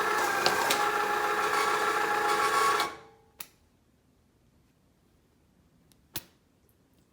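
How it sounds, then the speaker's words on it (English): A paper folding machine feeding and folding a sheet whirs loudly and steadily for about three seconds, then cuts off, leaving near silence broken by two brief clacks. "you put a sheet in here, you turn it on, and it feeds it out right there"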